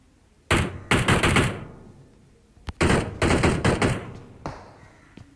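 Gunshots in a shooter video game ring out in loud, rapid bursts of automatic fire, with several clusters of sharp cracks separated by short pauses, near and dominant.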